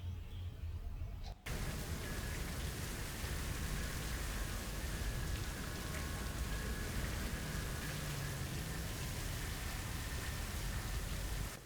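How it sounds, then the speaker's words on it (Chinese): Steady, dense rain pours down close by during a game, a continuous hiss with no voices after a brief quieter moment at the start. "这雨要下到什么时候啊？ 都已经打到第5局了，还下雨"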